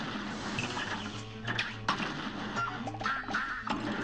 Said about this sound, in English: as soon as the ducks show up, I should just get them out of the way